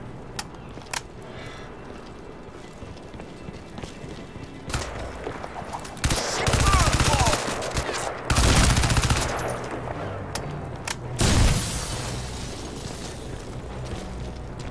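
Enemy gunfire in the video game Crysis 2 comes as loud bursts of rapid automatic shots and booming impacts, set against quieter scattered shots and background game noise.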